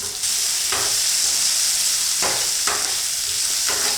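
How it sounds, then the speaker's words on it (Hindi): Chopped vegetables with green chili fry in a pan for a spicy soaked-Maggi snack, a steady close sizzle broken by a few soft stirring scrapes, with no voices. "सब्जी हमारी अच्छे से फ्राई हो चुकी है"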